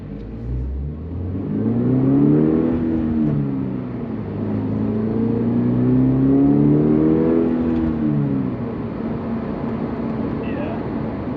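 A 2022 Toyota GR86/Subaru BRZ with an HKS Legamax Premium axleback exhaust accelerates through the gears from inside the cabin, rising engine tones with shift dips, blended with piped-in engine sound.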